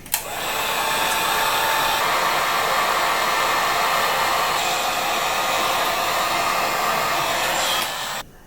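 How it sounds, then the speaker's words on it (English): A heat gun blows hot air to shrink a heat-shrink sleeve over soldered cables on an animated Halloween tombstone, making a steady, loud, close airy roar that runs unbroken for about eight seconds, then cuts off. "now we're going to take the heat gun and shrink it"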